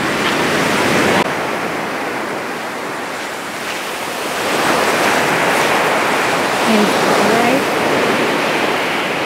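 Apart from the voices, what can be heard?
ocean surf waves at the beach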